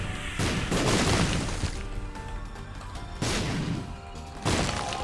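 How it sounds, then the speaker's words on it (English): Explosions in The Binding of Isaac: Repentance video game: loud booming crashes, with one long rumbling blast followed by two sharp bursts, dense and close over continuous game noise. "you had a very nice explosion there"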